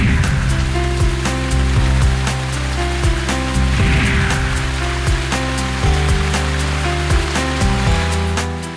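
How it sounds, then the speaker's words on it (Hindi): Steady rain falls in Shimla, a continuous dense hiss of drops hitting surfaces with a low steady rumble beneath it, unbroken for the whole stretch. "बुधवार को शिमला में दिन भर बारिश होती रही"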